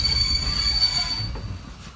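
TLK Zamoyski train wheels squealing as it arrives at Lublin Główny station, a loud steady high-pitched screech over a low rumble that fades near the end.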